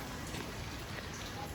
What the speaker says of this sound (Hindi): अभी शायद बारिश कम हो गई है, बारिश हो रही थी बहुत ज़्यादा तेज़